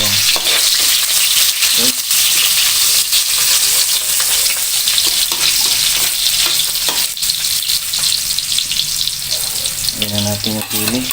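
Garlic sautés in a pan with a loud, continuous sizzle and stirring clatter, joined briefly by running water, while a voice speaks a single short word.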